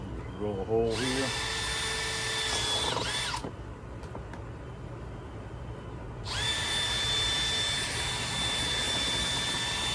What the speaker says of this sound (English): just drill a hole here.